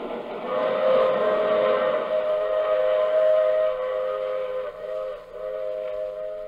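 A train whistle blows long and steady over the rumble of a passing train, loud and close, with a brief dip near the end before the tone resumes.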